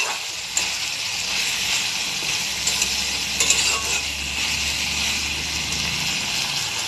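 Onion, potato, green chili, garlic and ginger paste fry together in a pan for an egg curry, making a steady close sizzle under the scrape of stirring, with a few utensil knocks and no speech.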